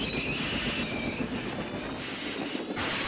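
A steam locomotive in a Thomas & Friends scene brakes hard to a stop, giving a loud, continuous rumble of rolling rail noise with a thin high squeal from the wheels, heard on its own.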